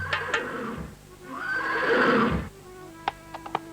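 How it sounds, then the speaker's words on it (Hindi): Chariot horses in an Indian folk tale let out a long, loud, wavering whinny, preceded by a couple of sharp knocks and followed by a few scattered light clicks, with no talking. "अब तो उस तेज को देख करके घोड़ा हिनहिनाने लगे हैं"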